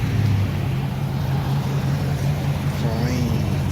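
A car exhaust with a muffler and red 5-inch tips gives a steady low rumbling drone at close range, continuous and even, with faint voices in the background.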